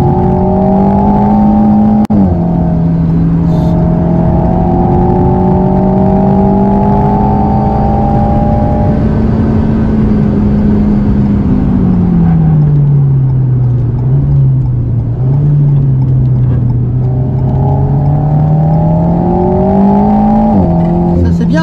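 An Alpine A110 S sports car accelerates out of a corner, its engine loud and steady in the cabin, pitch dipping through a gear change and then climbing again as it pulls away.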